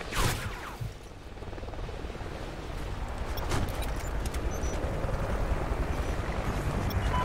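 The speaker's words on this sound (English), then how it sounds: "Friendly chopper inbound." A military helicopter arrives in the video game Call of Duty: Ghosts, a steady broadband rotor roar that builds gradually and stays loud, with a sharp impact near the start and another midway.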